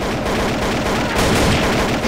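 Loud, sustained automatic gunfire crackles through a round of Trouble in Terrorist Town, shots packed closely together and swelling slightly toward the end.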